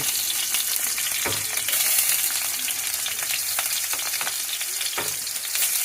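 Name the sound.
garlic and ginger sautéing in a pan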